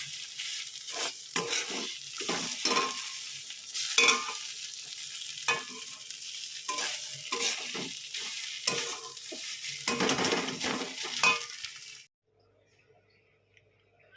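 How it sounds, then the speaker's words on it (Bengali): Yardlong beans frying in a pan are stirred together with a fried spice mix, giving repeated scraping strokes over a steady sizzle for about twelve seconds before dropping to near silence. "এটা ভাজা মশলাটা দিয়ে আর একটু নাড়িয়ে চাড়িয়ে নেব"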